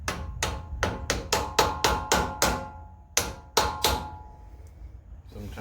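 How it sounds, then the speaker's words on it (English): A brass hammer strikes metal in a steady run of sharp, ringing blows, then pauses before a few more hits, close and loud, while tapping on a trailer wheel bearing protector. "Brass hammer."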